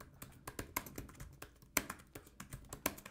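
Ad text is typed on a computer keyboard in a run of quick, irregular clicking keystrokes with a few sharper taps, close and quiet, without talking.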